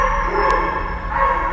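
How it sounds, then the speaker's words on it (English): A big dog barks at an animal shelter farm, a continuous loud, close vocalization filling the short moment with steady energy and no clear pauses. "Well, that's a big dog."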